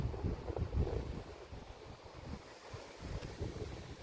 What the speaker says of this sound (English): that's a fair wind